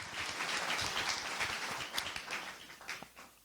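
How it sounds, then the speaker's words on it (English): Audience applause for an event's sponsors: dense, steady clapping from a crowd, fairly far off and holding at one level for the whole span before easing slightly near the end. "So round of applause to all of our sponsors."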